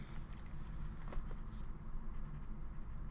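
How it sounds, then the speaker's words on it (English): A pen scribbling on paper while writing out equations, a continuous soft scratchy scrawl over a steady low background hum, close by, with no voice. "Let me just scribble it down one more time so I don't mistakenly type it."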